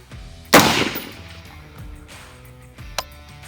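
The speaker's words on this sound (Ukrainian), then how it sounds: "роблю вдих-видих і повторюю так само, максимально якісно ще один постріл." A single sharp shot from a UAR-15 (AR-15 type) rifle cracks out loudly during zeroing at a target, followed by a fading echo and a couple of faint thumps afterward.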